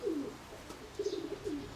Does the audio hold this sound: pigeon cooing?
yes